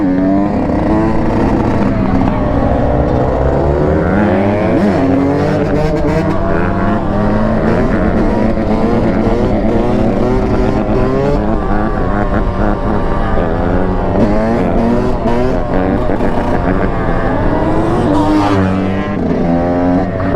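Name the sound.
cars racing past in a parking lot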